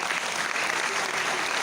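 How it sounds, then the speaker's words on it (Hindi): A short burst of dense audience applause at an indoor event, steady, close and fairly loud, with no talk over it. "एक जोरदार ताली होना चाहिए इस प्लेटफॉर्म पे"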